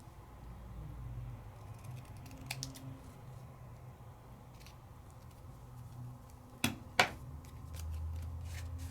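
Paper being trimmed for card making, with a couple of sharp, close snips near the end over a faint room hum; otherwise the space is quiet and no one speaks.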